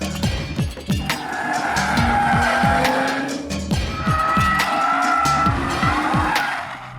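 A 2021 Audi RS5 Coupe with ceramic brakes, 400mm rotors and six-piston calipers brakes hard on a race track. Its engine note rises and falls repeatedly while loud tire squeal runs steadily through the braking zones, with no one speaking.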